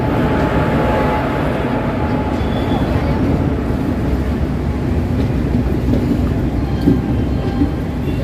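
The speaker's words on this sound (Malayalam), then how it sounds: "കൊച്ചുവേളി ട്രെയിൻ അങ്ങനെ കോഴിക്കോട് റെയിൽവേ സ്റ്റേഷനിലേക്ക് എത്തിയിരിക്കുകയാണ്" Kochuveli Garib Rath Express, the Mumbai LTT–Kochuveli ICF-coach train, pulling into Kozhikode railway station: a steady, loud rumble of rolling coaches heard from aboard, with faint station noise over it.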